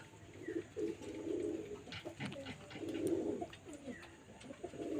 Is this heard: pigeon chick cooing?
yes